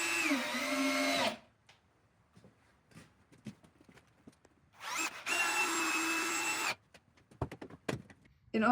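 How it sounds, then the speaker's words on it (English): A cordless drill drives screws into rough sawn wooden beams on an old trailer, in two long, steady whirring bursts. Clunks and knocks from handling the beams sound between and after the bursts. "just screw them in"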